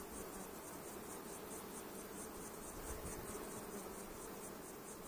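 Honeybees crowd out of hive boxes onto the frames, producing a steady, even buzz with no pauses, faint and continuous throughout.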